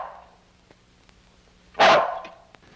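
A single dog bark, one short loud burst standing alone after a faint earlier sound, with near silence around it.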